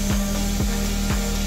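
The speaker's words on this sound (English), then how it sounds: "the sanding takes a little bit of effort because we're sanding through all that protective layer" Steady rasping friction of hand sanding the protective finish off IKEA Sjalland outdoor wood furniture, with three soft periodic strokes about half a second apart over a constant low hum.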